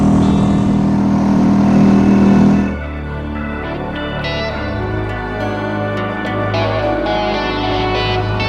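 A dinghy outboard motor heading into San Remo drones loudly and steadily, then drops to a lower, quieter running note partway through, with faint clicks and splashes over the engine hum.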